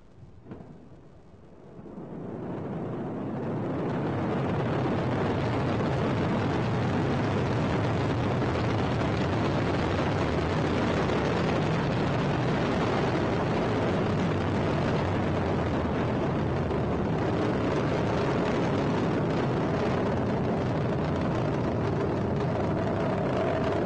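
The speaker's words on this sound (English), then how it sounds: "Allumage des EAP et décollage" An Ariane 5 rocket's solid boosters ignite and it lifts off. After a brief quieter start, a deep, thunderous roar swells within a few seconds and holds loud and continuous, filling the whole span with no voices.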